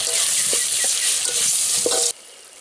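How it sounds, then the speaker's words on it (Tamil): Tomatoes and onions sauté in hot oil in a pan, a steady close sizzle with a few soft stirring scrapes, cutting off abruptly near the end. "இப்போ தக்காளி வெங்காயம்லாம் வதங்குது"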